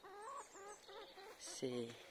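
Hens clucking in a home garden on a spring morning, a run of soft, rhythmic clucks and short calls close by, quiet, with a faint voice in the background.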